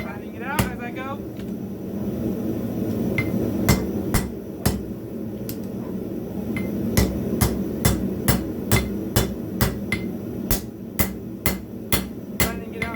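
Hammer blows on hot steel while forging the tip of a skinning knife, sharp ringing strikes coming in steady rhythmic runs, loud and close, with a low furnace hum beneath and occasional talk.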